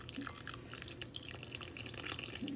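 Water trickles slowly into a dough mixture for Pua, a continuous soft dribbling and splashing at low level, with no speech over it.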